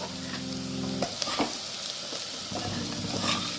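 Garam masala fried with potatoes in a pan for a Bengali aloo dum, a continuous close sizzle broken by stirring and scraping strokes, with no talking.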